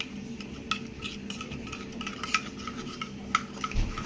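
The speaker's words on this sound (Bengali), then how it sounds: "আর এটাকে আমি খুব ভালো করে ফেটিয়ে নেব" Yogurt mixed with spices is whisked in a bowl, producing a soft continuous stirring rub punctuated by light, irregular clinks of utensil against the bowl, close and fairly quiet.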